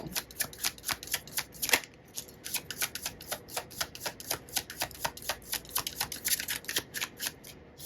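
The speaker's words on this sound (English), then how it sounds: "I'm going to first just lay out the cards, and then I'll decide where I feel that they go." Tarot cards are shuffled and laid out in a quick, steady run of crisp riffling flicks, close and fairly quiet, with no talking.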